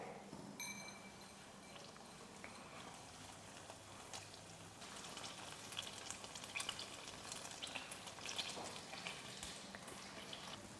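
Ricotta dumplings fry and caramelize in a pan with a soft, steady sizzle and crackle. Small spits and pops grow slightly busier partway through, all fairly quiet and close.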